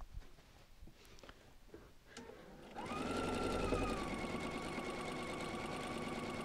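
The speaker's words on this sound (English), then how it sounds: "as I go to my sewing machine and start sewing that." A sewing machine starts up after some quiet handling noises and runs steadily with a fast, even mechanical whir and rhythmic stitching clatter.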